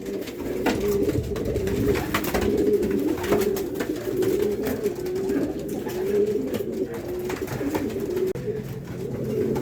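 Pigeons coo in low, repeated throaty rolls close by, layered over one another almost without pause, with faint rustling and scattered background noise behind them.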